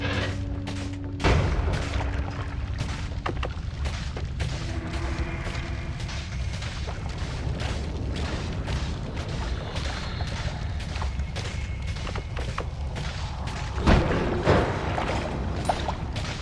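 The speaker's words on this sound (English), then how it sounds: "I have to beware of stuff exploding around me." Explosions in the pixel physics game Noita: repeated sharp booms and crackling blasts spread across a continuous rumbling, noisy game background, with two louder bangs standing out, and no talking.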